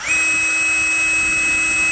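A Tekiro cordless brushless impact driver running free at about 2355 RPM, giving a smooth, steady high-pitched motor whine with a faint hum beneath. It is loud and close, continuous, and has no talk.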